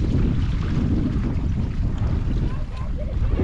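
Wind roaring steadily over a paddle board rigged with a $20 sail, mixed with water noise from the moving board; the broadband rush stays loud and close with no talk during the run.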